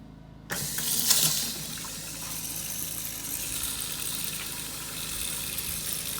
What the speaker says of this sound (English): If I turn this on, water's going to come out, and then you'll hear the pump kick on.